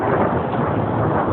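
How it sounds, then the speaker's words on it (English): Deep, rolling rumble of thunder during a snowstorm at night over a former parking lot, a continuous low roar that swells slightly and stays steady throughout, with no talking. "and thunder"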